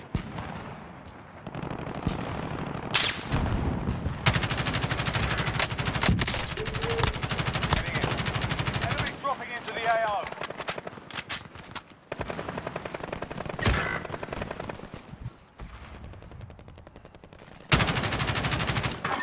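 Rapid machine-gun bursts and single gunshots fire almost continuously in a Call of Duty Warzone match, loud and close with short pauses and heavy booming impacts between volleys.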